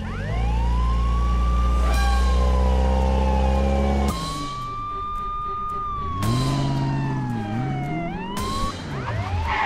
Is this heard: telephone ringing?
no